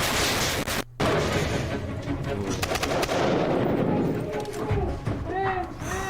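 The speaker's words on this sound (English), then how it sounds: "Once inside the building, the team then use stun grenades to disorientate whoever is inside." Police stun grenades go off during a building entry, a sharp blast followed by a brief dropout, then noisy commotion and crackling with raised voices underneath.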